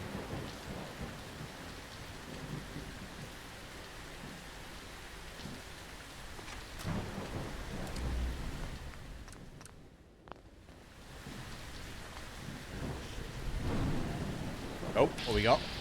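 Rain and thunder in a stormy London street in the video game Fallout: London, with a steady wash of rainfall, a couple of low rolling rumbles and a brief lull, loud and close throughout.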